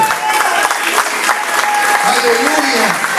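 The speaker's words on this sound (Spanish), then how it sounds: "Denle fuertes aplausos al Señor." Church congregation applauding loudly during a Spanish-language worship service, a dense, steady wash of clapping with voices and shouts mixed in throughout.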